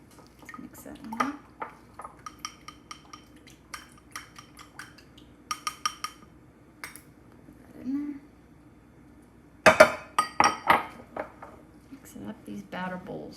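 A spoon works through salmon cake batter in a batter bowl, sparse clinks and scraping taps in short bursts, with someone talking in between.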